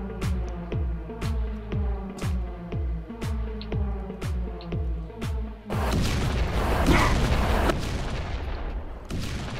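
Rocket launcher explosions in a multiplayer shooter game, a rapid string of booming blasts roughly twice a second, followed by a denser, rumbling barrage of overlapping explosions, loud and close.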